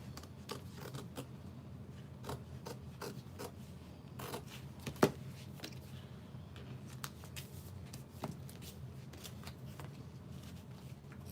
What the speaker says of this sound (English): because scissors can glide pretty easily on this fabric, I can cut it awkwardly and just glide my scissors